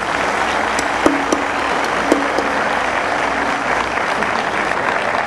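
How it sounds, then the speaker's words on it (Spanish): A congregation at a Christmas celebration of the birth of Jesus applauds steadily and loudly throughout, with a few sharp individual claps standing out from the dense crowd noise. "Para ellos pido un fuerte aplauso."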